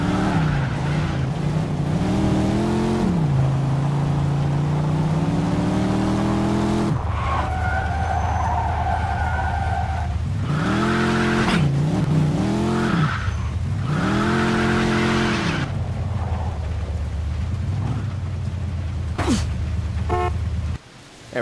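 A supercharged car in the game Mafia 2 roars at speed, its engine rising and falling through gear changes and revving hard, with tires squealing in bursts partway through and a sharp click at the end.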